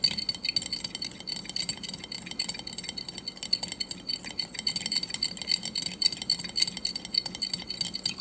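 A fork mixes lemon vinaigrette ingredients before any olive oil goes in, making rapid, steady light clinks and scraping against a bowl, close and continuous with no talk.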